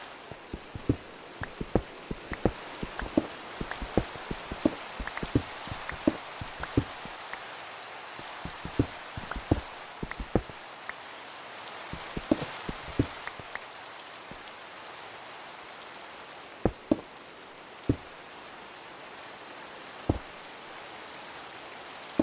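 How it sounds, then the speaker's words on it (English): Rain falls in a Minecraft jungle, a steady soft hiss broken by many close, sharp drip taps scattered irregularly throughout, no voices. "It's raining and we're in the jungle"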